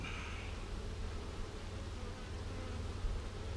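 Honey bees from a package colony buzz in a dense, continuous drone, close and steady throughout with no voices.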